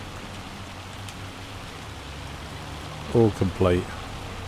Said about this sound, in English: we didn't manage to get it done before the rain started or the hail started